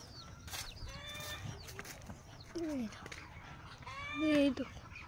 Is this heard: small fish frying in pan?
no